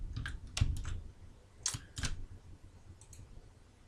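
Computer keyboard keys and a mouse click close by, in sharp, scattered taps with a few quick paired double clicks and brief pauses between them.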